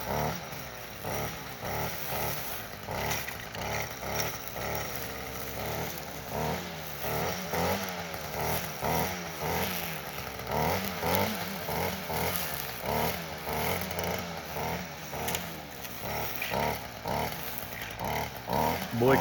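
A STIHL FS38 weed whacker runs close by while shredding weeds, a loud buzzing two-stroke drone with rapid rhythmic pulsing and chopping as the head strikes vegetation, continuous throughout.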